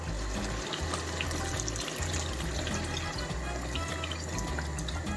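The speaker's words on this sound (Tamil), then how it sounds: "இந்த சமயத்தில் வந்து நம்ம இந்த புளி தண்ணி வந்து நம்ம ஊற்ற போகிறோம்" Tamarind water is poured into chicken masala cooking in a pot, giving a steady, continuous splashing and liquid rush at close range that lasts throughout, with no talking.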